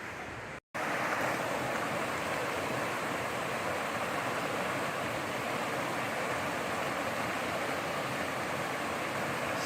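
Slate Creek rushing fast through a canyon, a steady, loud wash of flowing water heard near and constant, broken only by a momentary dropout near the start.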